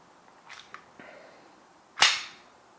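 An Umarex Glock 17 Gen5 airsoft pistol cycles its recoil action. Faint handling clicks come first, then one sharp, loud snap of the slide.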